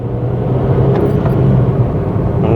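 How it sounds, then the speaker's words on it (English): A 2005 Toyota Yaris accelerates in second gear, its engine and road rumble filling the cabin as a steady, loud drone with a rising tone near the end; no one speaks. "So is this car fast? We're in second gear now,"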